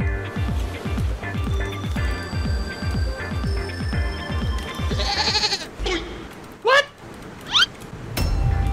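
Goats and a sheep bleat in the survival video game Raft, with a quick run of short cries near the end over a steady busy game soundtrack with rhythmic low thumps; no speech.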